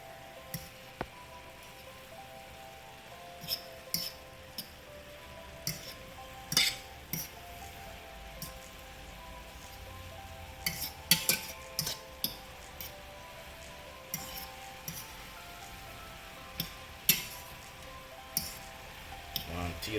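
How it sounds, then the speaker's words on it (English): Callaloo cooked with saltfish is stirred in a pot, a utensil giving irregular light clinks and scrapes against the metal over a steady low kitchen hum, with occasional voice in the background. "I'm gonna stir my callaloo here now"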